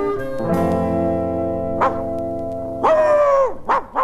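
A dog barks in a children's story soundtrack about a big grey dog, with a few sharp barks standing out loudly over a continuous orchestral music bed.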